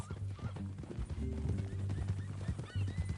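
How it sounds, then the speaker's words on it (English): Horse hooves clip-clop in Red Dead Redemption 2, with a whinny rising over the steady plodding; the sounds are close and fairly quiet, and no one speaks over them. "That new horse?"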